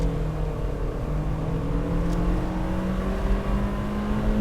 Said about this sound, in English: So on a straight road here, put it into first, rev it up,